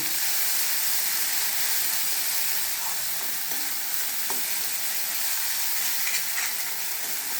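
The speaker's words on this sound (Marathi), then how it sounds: "आलं लसूण वगैरे छान परतलं जातं सगळं ह्याच्यामध्ये।" Ginger and garlic sautéing in spices for a red chickpea amti, giving a steady loud sizzle with occasional stirring scrapes and no talk.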